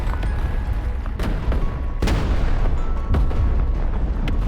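Tank cannon fire in War Thunder Mobile, a loud rumbling battle bed with several heavy booms, the sharpest near the two-second mark and again just after three seconds, continuous low roar between shots.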